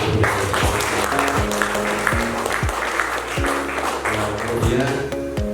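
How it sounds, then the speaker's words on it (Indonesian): Applause at a village community event in Srigonco, a crowd clapping steadily and fairly loud, with voices and talk mixed underneath. "tepuk tangan untuk seluruh"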